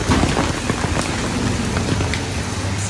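Steady rain falls on potted philodendron and elephant ear plants outdoors, a dense, continuous patter of drops that fills the whole stretch with no voices.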